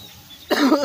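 A single sharp cough bursts out close to the microphone after a short quiet stretch in a bakery setting.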